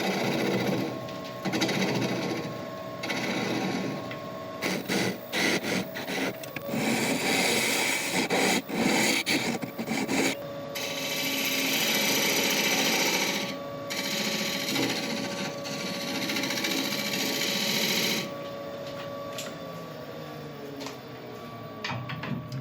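A laburnum wood piece is sanded while spinning on a woodturning lathe, giving a continuous dense hissing, rubbing whir that shifts in intensity as the paper moves, with the motor's hum running underneath throughout.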